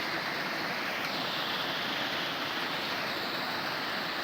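A mountain stream running high after a day of heavy rain, a dense continuous rushing hiss of flowing water, steady and loud with no pauses and no voices.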